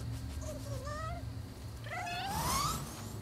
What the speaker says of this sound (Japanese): お、猫じゃん。